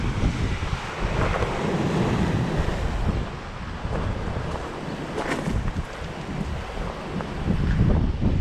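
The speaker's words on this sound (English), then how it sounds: "see the waves coming in." Waves wash in continuously on a rocky shore thick with washed-up seaweed near Palmanova in Mallorca, close and steady with heavy wind buffeting the microphone and surges swelling toward the end.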